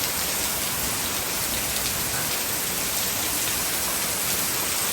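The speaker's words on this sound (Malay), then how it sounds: "hujan semakin lebat" Heavy rain pours down by Sungai Petani in strong wind, a dense, steady roar of rainfall that fills the whole clip without a break and with no voices.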